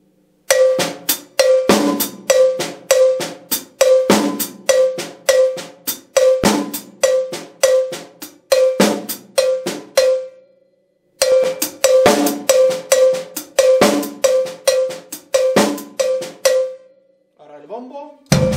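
Cowbell on a drum kit playing a slow paradiddle-based pattern mixed with other figures, loud close strikes in steady grouped bursts alongside drum hits, with a brief pause midway and a short trailing sound at the end.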